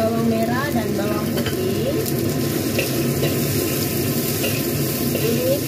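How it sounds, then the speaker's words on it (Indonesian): Shallots and garlic sautéing in a pan for a stir-fried vegetable dish, a steady close sizzle with occasional stirring scrapes running throughout, while someone talks over it. "Setelah itu kita tumis bawang merah dan bawang"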